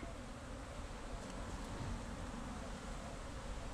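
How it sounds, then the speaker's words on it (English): Honeybees buzz steadily around an epiphyllum orchid cactus in sunshine, a faint, continuous drone of many wings at some distance with no distinct individual passes and no talking. "The bees are doing their orientation flight."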